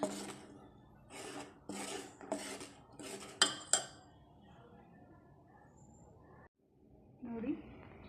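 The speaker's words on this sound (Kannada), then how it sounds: "ಈ ಥರ ಹಿಂಗೆ ಮಿಕ್ಸ್ ಮಾಡ್ತಾನೆ ಇರಬೇಕು." Stuffed chili palya is stirred in a pan, a spoon scraping and clinking against the metal in a run of rhythmic strokes. Quiet frying sits underneath, and a voice talks over it.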